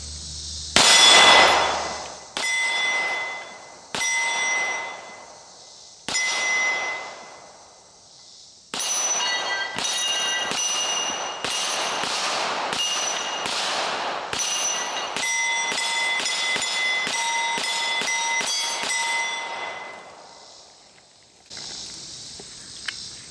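Sig AXG Pro pistol firing at steel targets outdoors: a few slow spaced shots with ringing clangs, then a rapid string of shots and metallic pings, loud and close.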